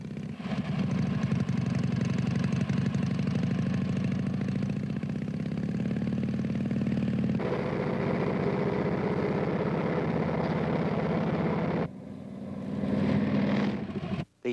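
A motorcycle engine runs steadily during a test ride, a continuous loud mid-pitched drone with a shift in tone partway through and a brief dip and surge near the end.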